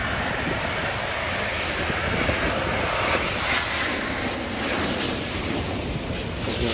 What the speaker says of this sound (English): The ugliest planes I've ever seen, man.